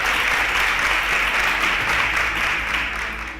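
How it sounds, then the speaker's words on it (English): A quiz-show audience breaks into steady, dense applause that fills the whole stretch, loud and close, fading slightly toward the end. "A round of applause for him."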